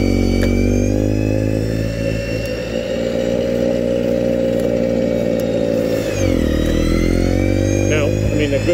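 A Troy-Bilt gas two-stage snow blower drones loudly and continuously while clearing snow, its engine briefly dipping and then recovering in pitch as the auger empties the chute.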